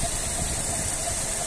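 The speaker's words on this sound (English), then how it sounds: "Engine sound very nice and smooth." A 2008 Mazda 6 with a 2.0-litre petrol engine idling, a steady, smooth, even hum heard close up for a brief moment, alone and without voices.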